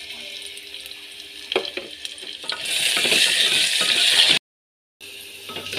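Potatoes fry in a pan with a rising sizzle and stirring, growing louder and brighter midway before a brief cutoff, then a quieter sizzle resumes; no talking.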